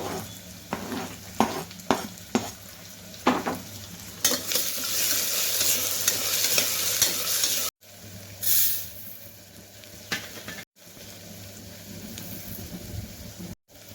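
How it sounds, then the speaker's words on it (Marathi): Cumin, curry leaves and tomato sizzle in hot oil for dal khichdi, a loud crackling hiss broken by several sharp stirring scrapes early on, then a steady, fierce fry to the end. "जिरा, कढीपत्ता, टमाटर टाकून घेते आता मी।"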